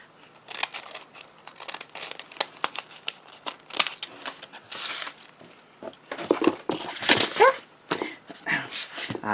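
Paper torn by hand to make a rough vintage edge for a handmade card, a series of short, close crinkling rips in irregular bursts, some louder and longer near the end.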